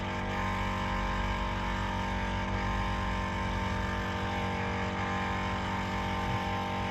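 A car tyre is inflated with air by a compressor after a puncture plug repair. A steady, unbroken mechanical drone holds at a constant level throughout, close by, with no talk.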